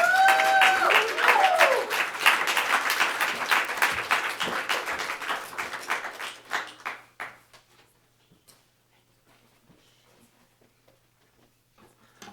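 Audience applause at a book-tour literary event: dense clapping with a few early whoops, thinning into scattered claps and dying out to near silence after about seven seconds.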